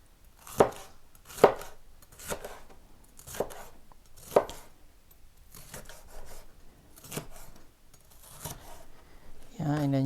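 Knife chopping a very ripe paprika into cubes on a board, a sparse series of crisp, close cuts spaced about a second apart, with quieter scraping between and a voice at the very end.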